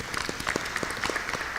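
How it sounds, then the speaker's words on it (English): An audience at an employability summit and career awards event claps for the volunteers, giving a short burst of dense, steady applause. "Please give them a round of applause."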